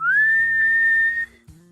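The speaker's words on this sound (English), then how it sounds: "she's heating up a teapot, and that's where it starts whistling" A heated teapot whistles with a loud, steady high tone that rises at the start, holds for over a second, then cuts off, with a low hum underneath.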